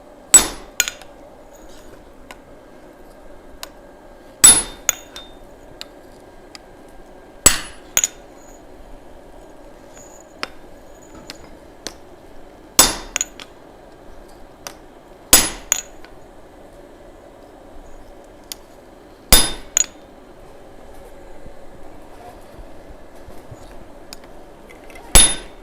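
Sharp hammer blows ring out on a forged axe head being smoothed, landing in spaced clusters of one or two strikes every few seconds over a low steady hum, with no talk.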